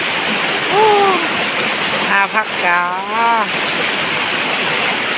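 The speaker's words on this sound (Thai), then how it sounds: "ฝนตก" Rain falls outdoors as a steady, loud hiss that runs through the whole stretch, with people talking over it.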